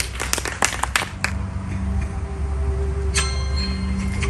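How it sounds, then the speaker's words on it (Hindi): Applause greets a performer about to sing a Hindi bhajan at a World Hindi Day celebration, starting with scattered sharp claps up close, then settling into a steadier wash with a low hum underneath and a glassy clink. "प्लीज तालियों के साथ इनका स्वागत करें।"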